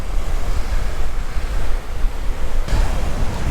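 Strong wind gusts buffet the microphone at a kitesurfing beach on Oahu's North Shore, with steady loud broadband roar mixed with surf and a sharp buffeting burst near the end; no talking.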